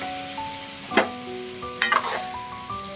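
Tikka masala curry sizzles in a pan after water is added, a soft steady hiss with a few louder crackling spurts, under quiet background music.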